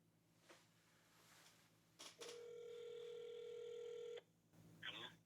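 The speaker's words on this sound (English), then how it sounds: "I'm gonna call him right now and see if he answers the phone." Phone call placed by dialing: a short burst of dialing tones followed by a steady, sustained ringback-style tone for about two seconds, then a brief fainter tone burst; moderately loud with faint background room noise.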